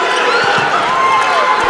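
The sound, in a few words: basketball arena crowd cheering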